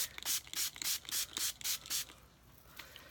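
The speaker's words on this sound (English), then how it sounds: "So I'm just going to spray them with some water." Seven quick, evenly spaced hissing sprays from a spray bottle, close by, followed by a quieter pause and one last faint spritz.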